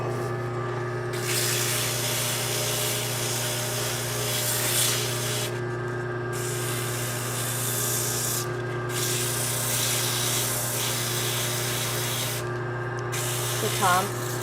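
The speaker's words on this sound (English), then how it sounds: "Let's just go ahead and sand the main part of the handle." Sandpaper rubbing against a spinning wooden ice cream scoop handle on a lathe, a steady loud hiss over the constant drone of the motor, with brief pauses where the paper lifts off.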